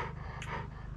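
A puppy pants in quick, steady breaths close to the microphone, with a low continuous hum underneath, outdoors at an off-grid cabin where lumber is being milled.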